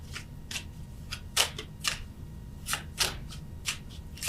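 Tarot cards being shuffled by hand during a reading, a series of soft papery riffles and flicks in irregular bursts, close and fairly quiet over a low steady background hum.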